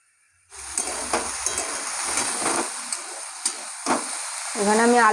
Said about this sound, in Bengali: এখন আমি একটু নেড়ে ভালো করে একটু ভেজে নেবো, আলু আর পেঁয়াজটা একটু ভেজে নেবো।